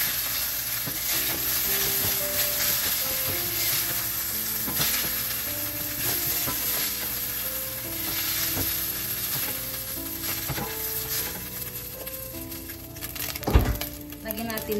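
Chicken stir-frying in a pan with oil and garlic gives a steady, close sizzle that runs the whole time. Brief utensil scrapes and clinks rise above it, with a sharper clatter near the end.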